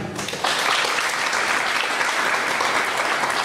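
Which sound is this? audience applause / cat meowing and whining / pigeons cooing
audience applause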